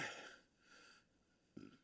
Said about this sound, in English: Excuse me, I burped.